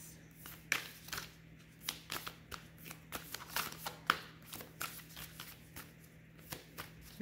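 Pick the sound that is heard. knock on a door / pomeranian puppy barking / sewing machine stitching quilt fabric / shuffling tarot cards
shuffling tarot cards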